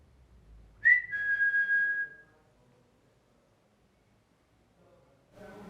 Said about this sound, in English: I did hear a whistle then